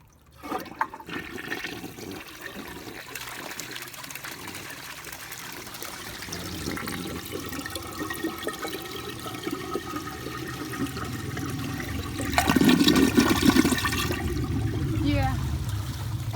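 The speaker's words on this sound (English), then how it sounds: "here's another flush" A 1961 American Standard Cadet vintage toilet flushes with a steady rushing swirl of water that builds and then surges louder near the end, recorded close up with a faint voice at the start.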